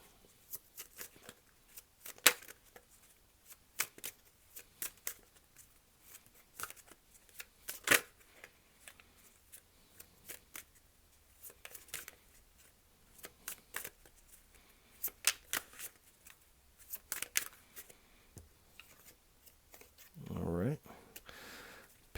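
Tarot cards are shuffled and riffled in a long run of crisp, irregular flicks and taps, up close and fairly quiet, with a brief murmur of talk near the end.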